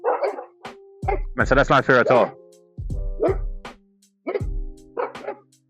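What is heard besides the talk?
dogs barking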